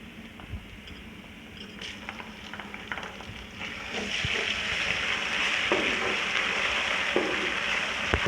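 Garlic ginger paste and spices fry in a pan for chicken biryani, giving a steady, close sizzle with scraping stirs. The frying grows louder and more intense partway through.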